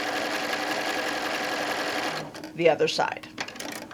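A sewing machine stitches a quilt block with a close, steady mechanical whir for a couple of seconds, then stops as a person speaks over light handling noise.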